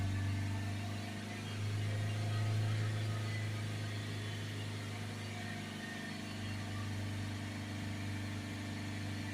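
A Ford Transit 2.2 diesel engine held at a steady 3000 rpm, its even mid-pitched drone and hum running continuously and fairly loud throughout, with no speech.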